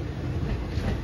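A passenger train, the Tirupati to Kakinada Port express, runs through Gudur station without stopping, giving a steady, loud rumble of rolling wheels from inside the coach.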